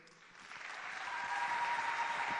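Audience applause at an award ceremony, a steady wash of clapping that builds slightly louder over a couple of seconds and continues without pause.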